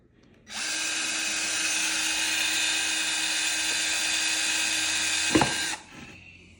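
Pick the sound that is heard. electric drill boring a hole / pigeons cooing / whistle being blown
electric drill boring a hole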